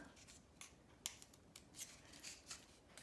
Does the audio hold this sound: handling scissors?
yes